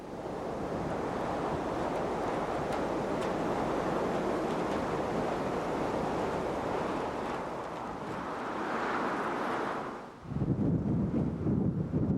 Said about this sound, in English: In Botany Bay we have Bear Island, where a good bombora breaks in huge winter swells.